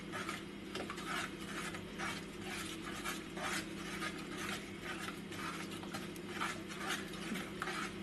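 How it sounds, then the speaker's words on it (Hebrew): Steady scraping and stirring of fig and plum jam in a pot, with repeated soft rasping strokes at a regular rhythm, fairly faint and unaccompanied. "ככה אני ממשיך לערבב כל הזמן עד שהפרי מתרכך"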